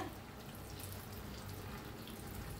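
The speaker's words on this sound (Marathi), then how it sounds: "अर्धा ग्लास पाणी ओतले" About half a glass of water pours into a pan of sprouted matki beans and potatoes, a steady close splashing stream running unbroken for a few seconds with no voices.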